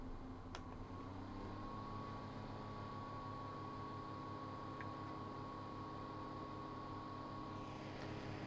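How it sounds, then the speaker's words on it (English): An original Power Mac G5 CPU fan runs at 2000 RPM with a steady low droning hum and a thin constant whine above it, close up with no voices. "Two thousand RPM on the original."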